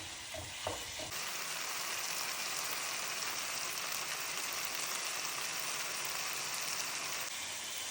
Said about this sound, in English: So sauteed until the tomatoes are well done.